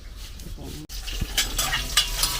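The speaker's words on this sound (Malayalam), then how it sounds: "ഉള്ളി അത് വഴറ്റിക്കൊണ്ടിരിക്കുമ്പോ ഉള്ളി അങ്ങ് വഴലുമല്ലേ" Onion sautéing in a pan, a steady crackling sizzle with scraping stirs and a light clink of utensil against the pan, close and moderately loud.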